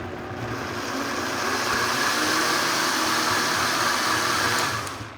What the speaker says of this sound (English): Let's blend this until it's smooth.